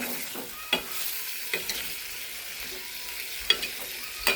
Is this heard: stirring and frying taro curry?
yes